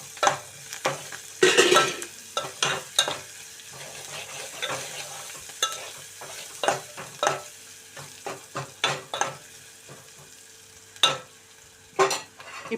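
Ginger-garlic paste frying in a pan for a broad bean and tomato curry, with steady sizzling and repeated sharp clinks and scrapes of a spoon stirring against the pan, close and moderately loud, no talk.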